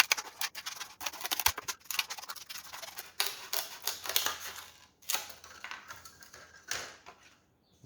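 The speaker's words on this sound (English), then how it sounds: "I'm just going to trim the edges off here to get all, so we want a flat sheet." Cutting the edges off a styrofoam butcher's tray gives a series of close, crisp snips and squeaky crunches in irregular bursts, fading to quiet at the end.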